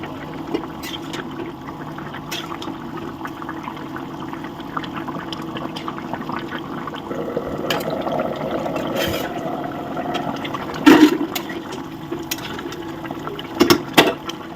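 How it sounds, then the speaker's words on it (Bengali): A pot of fish soup with potato, cauliflower and papaya bubbling on the stove, a steady low simmer with scattered small pops and a few louder clinks near the end. "কিছুক্ষণ এইভাবে ফুটতে থাকুক তারপরে মাছটা দেবো"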